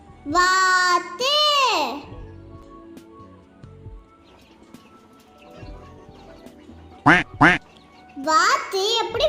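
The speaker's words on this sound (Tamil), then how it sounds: "வாத்து எப்படி விளையாண்டுட்டே ஜாலியா இருக்குன்னு பாருங்க ஃப்ரெண்ட்ஸ்." Ducks in a cage quack in bursts of loud nasal calls, with a child-like voice speaking between the calls.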